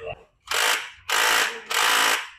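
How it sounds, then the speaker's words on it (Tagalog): Three loud, evenly spaced bursts of an impact wrench rattling on scooter CVT nuts, each lasting about half a second with short pauses between, close and harsh. "Babarilin ni Boss Mark yan."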